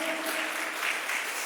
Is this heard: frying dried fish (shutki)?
no